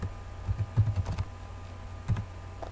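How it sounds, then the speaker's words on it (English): Quiet keystrokes on a computer keyboard come in two short bursts of rapid clicking separated by a brief pause, with no voices. "I'm going to do one just by typing in the same information."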